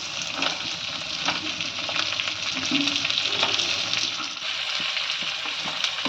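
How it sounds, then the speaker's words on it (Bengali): About 300 grams of chopped onions sizzle and crackle steadily in a hot pan for chili chicken, a continuous close frying hiss with occasional stirring clicks and no voices. "এবার তিনশো গ্রাম পেঁয়াজ ভেজে নিচ্ছি"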